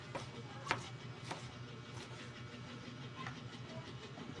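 Knife chopping vegetables on a cutting board in a home kitchen, several sharp, separate knocks in the first two seconds, then softer taps over a steady low background hum.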